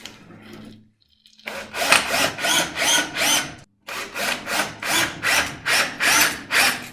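Power drill driving into a wall to fix an earthing disconnect bar, a short buzz then a pause, followed by repeated rhythmic grinding bursts in close succession, loud and near, no talk.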